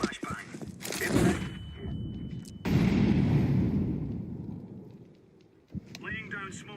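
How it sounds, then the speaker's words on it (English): A flashbang grenade bursts in a shooter video game with a sharp, loud blast followed by a rushing roar that slowly fades, while players talk around it. "Throwing flashbang."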